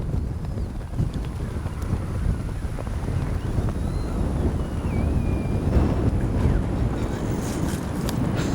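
Strong wind buffets the microphone at an RC jet flying field in a constant low roar, with faint whistling tones drifting above it.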